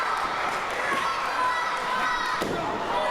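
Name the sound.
wrestling crowd cheering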